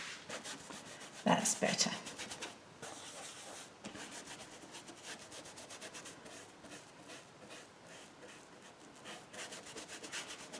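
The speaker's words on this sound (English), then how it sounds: "I'm going to use an old bristle brush that I have for this." Old bristle brush scrubbing over paper on a horse drawing, a continuous close scratchy rubbing with a brief louder burst near the start, and a person speaks briefly.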